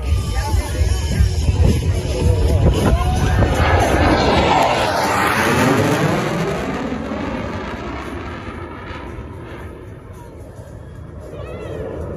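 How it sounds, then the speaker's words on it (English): Two Thunderbirds solo jets sweep overhead at an airshow, a loud roaring pass that rises and fades with a falling Doppler sweep as crowd noise lingers. "welcome our current solo pilots, Thunderbirds 5 and 6, as they approach from behind and overhead for the crossover break"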